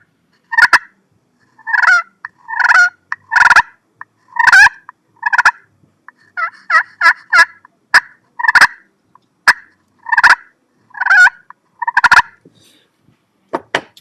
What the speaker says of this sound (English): Maybe throw a couple purrs in there, a cluck and a purr.